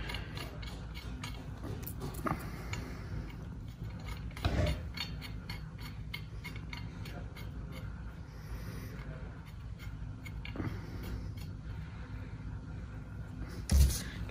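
A bolt on a 125cc Venom Motorsports mini jeep is turned tight with a 13 mm wrench, giving rapid ratcheting clicks in repeated bursts with a few louder knocks, close by.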